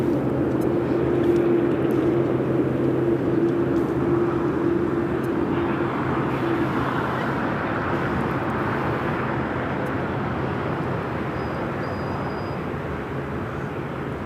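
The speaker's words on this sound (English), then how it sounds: "the Queen now making that left-hand turn onto Lima" A Boeing 747 airliner taxies at LAX, its engines giving a steady broadband roar with a low hum that fades gently over the stretch, no speech over it.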